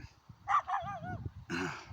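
A dog gives a few short barks and yips, close by and fairly loud, with a brief pause between bursts and low rumbling noise underneath.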